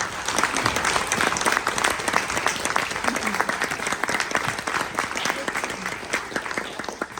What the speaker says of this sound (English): maybe we should give her a round of applause